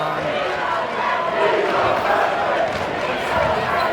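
Crowd noise from a boys high school basketball finals, a steady roar of cheering and shouting that swells slightly, with a commentator talking over it.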